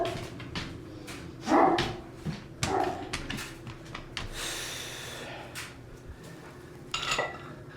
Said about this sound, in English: Dogs are freaked out about something.